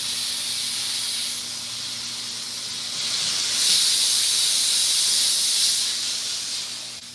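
A car detailing steamer sprays pressurized steam in a steady, loud hiss that swells in the middle and then eases, with a faint low hum underneath.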